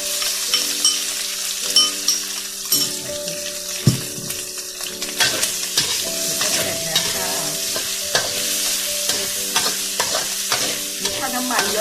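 Chili peppers hit hot oil in a pan for a stir-fry with pork belly and beans, crackling and sizzling loudly while utensils knock and scrape against the metal.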